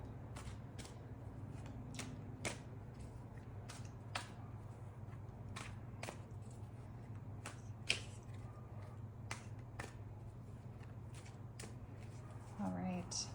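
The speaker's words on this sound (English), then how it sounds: "I'm hearing 8 more shuffles." Tarot cards are shuffled in a steady run of quick crisp riffles, over a constant low hum and faint background noise.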